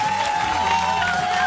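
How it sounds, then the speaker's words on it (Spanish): Fans applaud a singer in a Chilean TV studio, a steady wash of clapping heard up close and filling the whole moment, with a faint sustained musical tone running underneath. "Mira, ahí las fans como te aplauden"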